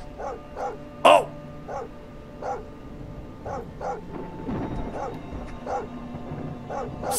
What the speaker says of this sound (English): I got a dog with me. It's a German Shepherd and she can bite your ass off if she wants to.